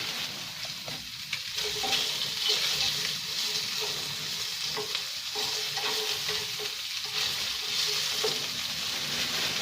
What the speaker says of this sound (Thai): ใส่หมูลงใส่ด้วยกันนะจ๊ะ ใส่หมูลงไปผัด